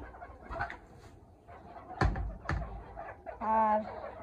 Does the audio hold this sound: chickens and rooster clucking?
yes